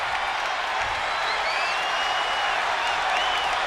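WWE 2K20 arena crowd, a continuous dense roar of cheering that holds steady and loud throughout with no clear talk.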